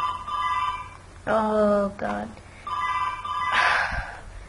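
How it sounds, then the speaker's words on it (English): A telephone ringing indoors, repeated tonal rings separated by short gaps, fairly loud and close, with a person's brief exclamation mixed in between the rings. "sorry about the phone ringing"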